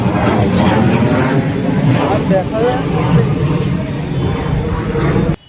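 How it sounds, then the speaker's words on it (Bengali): A fixed-wing airplane passes overhead near Barasat Junction railway station in West Bengal, giving a loud, steady engine roar that holds evenly throughout and cuts off abruptly at the end, with a faint babble of voices underneath. "প্লেনের ভিডিও করছি"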